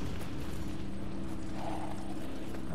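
Monk wheel enemy in Nioh 2, a steady mechanical grinding and creaking rumble like a rolling wheel, continuous and fairly loud over dense game ambience, with no one speaking.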